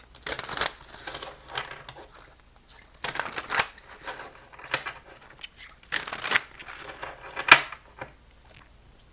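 Gold foil tarot cards shuffled by hand in repeated bursts of crisp riffling and slapping, close and moderately loud, with short pauses between passes and no talking.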